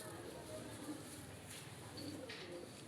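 Pet pigeons at a home coo softly in low, rolling phrases, close but quiet against a steady background hum.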